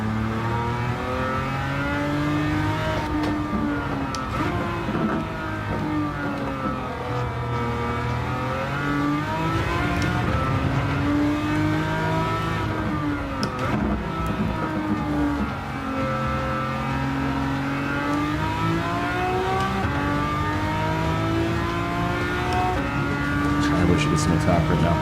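A race car in Gran Turismo 7 on PS5 revs hard and continuously, its engine note rising and falling through gear changes as it drives, with someone talking over it throughout.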